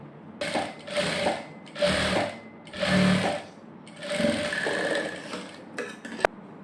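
A sewing machine stitches a princess-cut blouse in several bursts of steady whirring, separated by short pauses, close by with no talk.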